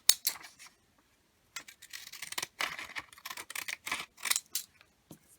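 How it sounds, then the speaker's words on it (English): Craft scissors with a jagged-edge blade snip through paper in quick, crisp bursts, a few scattered cuts, then a rapid run of close snips after a short pause. "these scissors just cut that jagged edge"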